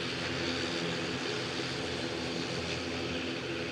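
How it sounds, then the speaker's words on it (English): A Ryanair airliner from Paris Beauvais on final approach into Edinburgh produces a steady droning engine hum with a faint tonal whine, constant and fairly distant. "Somebody's nicely into finals. That somebody is a Ryanair in from Paris Beauvais."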